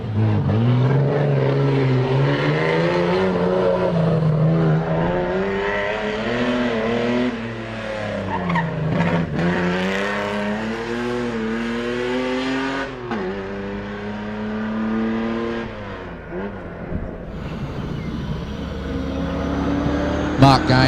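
A Holden LH Torana race car charges up a lakeside hillclimb, its engine revving hard and dipping through gear changes in a loud, continuous howl, with an announcer's voice faintly under it.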